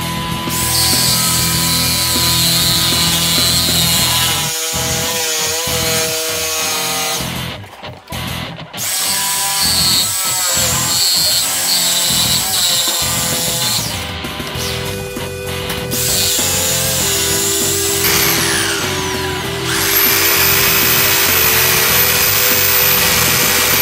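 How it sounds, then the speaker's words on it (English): A Makita jigsaw cutting a curve for a circle on a construction site, a loud continuous buzzing saw drone running nearly throughout with brief dips and pitch shifts as the cut turns. "this one is Makita Jigsaw. I'm gonna use this one to cut some curve for a circle."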